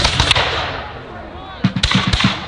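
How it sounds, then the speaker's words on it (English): Several sharp cannon booms ring out in a quick uneven burst, distant and muffled, following a few earlier isolated cracks under a murmur of crowd noise at a historical reenactment battle. "It looks like the cannon has come on the field."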